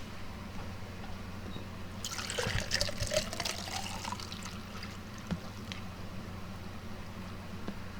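Water poured from a container to refill a drinking glass, a short splashing burst in the middle of a quiet room with a steady low hum underneath, fading to faint drips and clinks.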